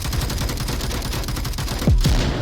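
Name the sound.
machine gun fire in Onward VR video game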